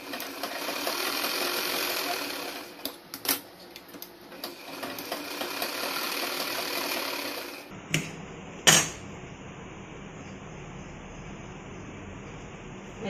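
A sewing machine stitches the shoulder seam of a little girl's frock in a steady mechanical whir. It stops near the end, followed by brief clicks and a quieter background.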